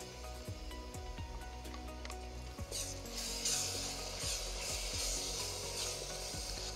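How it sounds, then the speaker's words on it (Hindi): Tomato puree sizzles and crackles softly in a hot pan for a tofu curry, with scraping and tapping of a utensil against the pan, quiet and steady with no talk. "अब इसमें हम टमाटो प्यूरे डाल देंगे"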